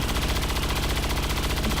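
Rapid automatic gunfire aimed at a Codex enemy in XCOM 2, a loud, dense stream of shots in fast even rhythm filling the whole burst.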